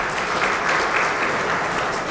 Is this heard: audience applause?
yes